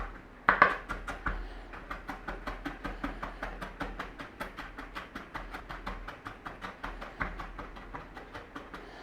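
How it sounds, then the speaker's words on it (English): Steady knife chopping as ginger is sliced and then minced on a board, a close, regular run of crisp taps that speeds into a fast, even rhythm with no talking. "Nice and steady, just slice through and then mince up."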